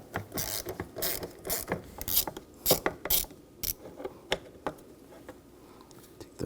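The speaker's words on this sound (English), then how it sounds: "We're going to use a 10mm socket for those." A ratchet with a 10mm socket loosens screws during front strut assembly replacement on a 2007-2013 BMW X5, quick runs of close metallic clicks in irregular bursts, with no talking.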